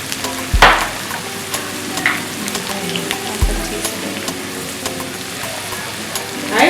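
Mild chickpea curry being stirred in a pan, a steady soft sizzle and frying hiss with occasional scraping clinks of the spoon, close and continuous at low-moderate level, with a few faint voices.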